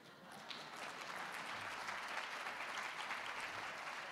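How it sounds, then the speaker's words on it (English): Clapping in the audience at a business summit, quiet and distant, rising a moment after it begins and then continuing as a steady patter of claps. "We have one person clapping."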